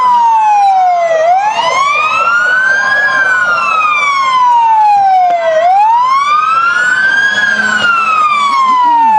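A fire engine siren wails in loud, sweeping rising and falling cycles at close range as a Philippi Fire Department truck passes in a small-town Christmas parade.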